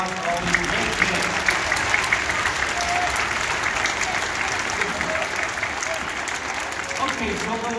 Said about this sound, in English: Let's have a round of applause for all these great kids